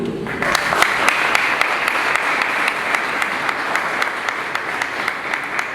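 Dense, steady applause from a large audience at a Haitian church ministry graduation commencement in 2025, sustained throughout at full strength with no talking over it.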